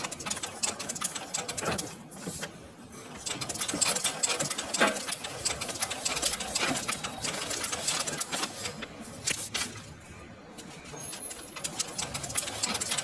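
Sewing machine stitching through paper during tailoring practice, a close, continuous rapid needle chatter that pauses briefly twice, running alone without talk.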